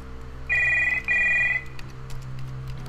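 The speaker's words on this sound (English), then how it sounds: "Behind the door, phone starts to ring." A phone rings behind a door in the video game Stories Untold: two short electronic ring bursts in quick succession, clear and fairly loud over a quiet, low ambient hum.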